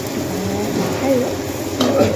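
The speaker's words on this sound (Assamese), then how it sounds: "এতিয়া যোনখিনি তেলতে কণীখিনি ভাজিছিলোঁ তাতে মই পিঁয়াজখিনি দি দিলোঁ।" Onions frying in hot oil alongside fish eggs in an Assamese home kitchen, with a steady close sizzle and stirring clinks throughout, swelling slightly near the end.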